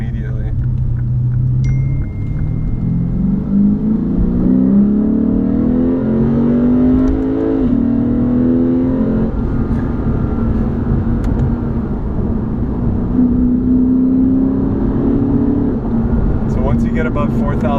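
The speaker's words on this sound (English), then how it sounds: "they have a sound enhancer in here that kind of amplifies the engine noise" A 2015 Lexus RC F's engine, boosted in the cabin by a sound enhancer, drones and climbs through the revs in a steady, loud rumble with a gear change partway, heard from inside the car under continuous talk.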